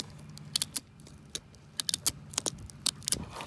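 A knife sawing through the tough, armoured skin of a gar fish gives sharp, irregular crunching clicks and scrapes, close and fairly quiet, in uneven bursts without talk.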